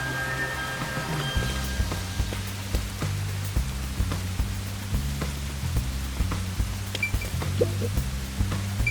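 Steady rain in the detective game Master Detective Archives: Rain Code falls on a rooftop near high-voltage lines, a continuous patter that carries on alone under a low, repeating musical drone.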